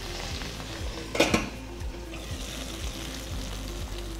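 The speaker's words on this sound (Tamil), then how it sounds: "இது கொஞ்சம் நல்லா வதங்கட்டும். மூடி போட்டு வதக்கி விட்டுட்டோம்." Brinjal sauteing in oil in a covered pan for ennai kathirikai kuzhambu, a steady soft sizzle with a brief clink and stirring rattle of utensil against the pan.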